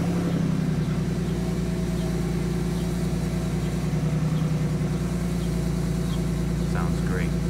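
A Ford Mustang with a modified aftermarket exhaust idles after a cold start, a steady deep burbling rumble close to the microphone, holding an even rhythm throughout.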